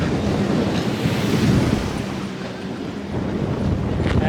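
Ocean waves surge and break against a pier and breakwater at Key West, a loud, continuous wash of surf with heavy wind rumble on the microphone and no talking.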